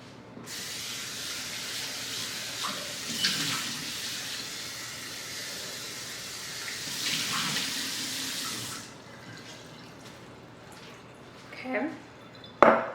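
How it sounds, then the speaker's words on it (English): Tap water runs into a kitchen sink as a bowl is rinsed, a steady hissing splash that swells and fades over several seconds, ending with clinks and knocks of the bowl. "I'm gonna wash down my bowl real quick."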